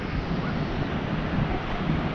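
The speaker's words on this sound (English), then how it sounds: "but look at this beach" Surf breaking on Nye Beach on the Oregon coast makes a constant, dense, even wash of noise, with wind buffeting the microphone throughout.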